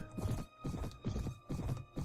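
Horse hooves galloping in the Mount & Blade Warband: Viking Conquest video game, a repeating rhythmic thudding in four clear bursts, steady and moderately loud, with no talk over it.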